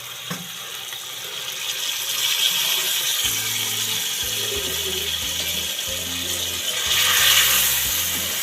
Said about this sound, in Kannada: ಜಾರ್ ತೊಳೆದು ನೀರು ಹಾಕ್ತಾಯಿದ್ದೀನಿ